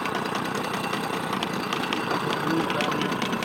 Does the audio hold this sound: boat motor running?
yes